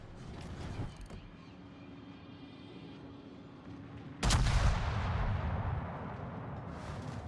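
A big naval gun salvo from a Bellerophon-class battleship in World of Warships booms out close and loud near the end, a single heavy blast whose rumble rolls on after the quieter ambience before it.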